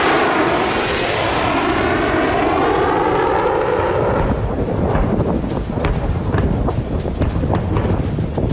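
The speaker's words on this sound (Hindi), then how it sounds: "आसमान से B-2 बॉम्बर की बारिश।" A B-2 bomber aircraft passes overhead with a loud, broad jet roar, its sweeping tones shifting as it goes by, then easing into rumbling turbulence with no talking.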